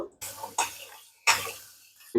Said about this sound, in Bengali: এখন সিমগুলো ধুয়ে নেব